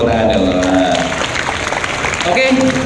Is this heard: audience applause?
yes